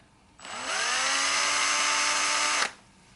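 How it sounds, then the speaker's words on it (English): A cordless electric drill spins a piece of briar chucked in like a bit for a pipe-stem logo: a single whining run spins up, holds a steady, close, loud buzzing pitch for about two seconds, then stops sharply. "Nothing more than a cordless electric drill"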